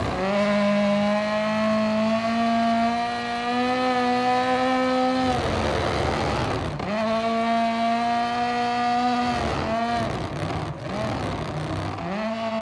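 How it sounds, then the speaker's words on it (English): Rally 1 cars in the racing game EA WRC roar through rising gear pulls, with sharp drops and quick re-revs as the engine shifts, loud and close throughout with a brief burst of crackling revs near the end. "the noises coming out of those Rally 1 cars are just phenomenal."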